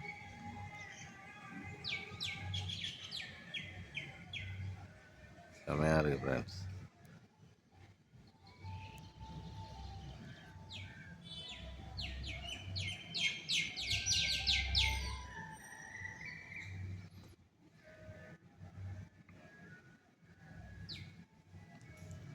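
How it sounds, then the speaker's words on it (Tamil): Birds chirp and tweet in bursts outdoors against a low background rumble, with someone speaking at times and a brief loud thud partway through. "அந்த பறவை சத்தத்தோடு பாருங்கள் இயற்கையை"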